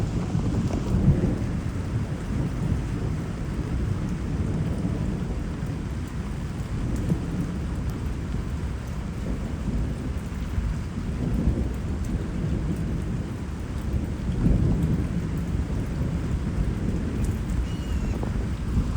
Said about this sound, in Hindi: ये आसमान का आवाज बंद ही नहीं हो रहा है